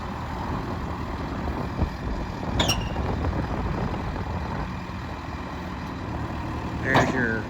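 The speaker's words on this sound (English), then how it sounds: "There's your clamshell bucket opening." A JCB 3CX backhoe loader idles in a low, steady rumble while its clamshell bucket opens, giving two short, sharp hydraulic hisses several seconds apart.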